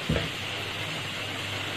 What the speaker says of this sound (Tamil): இப்போ இதை நல்லா வதக்கிடலாம்